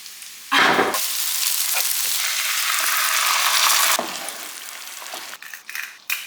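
A vegetable mixture sizzles and simmers in a hot pan, a loud, steady frying hiss that holds for several seconds, then drops and breaks into crackles near the end.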